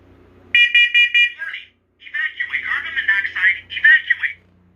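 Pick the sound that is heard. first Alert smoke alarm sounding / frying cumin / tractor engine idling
first Alert smoke alarm sounding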